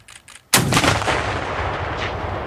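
Soldiers fire an AT4-CS recoilless weapon outdoors, a single very loud blast about half a second in, followed by a long rolling rumble that slowly fades.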